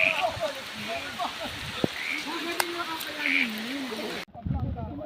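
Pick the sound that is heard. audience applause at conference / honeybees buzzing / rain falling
rain falling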